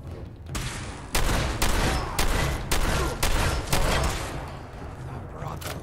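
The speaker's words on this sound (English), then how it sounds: "I need some covering fire over here." Rapid, repeated gunfire from Fallout 4 VR, loud sharp shots landing in an irregular rhythm through a sustained firefight, with a voice briefly audible underneath.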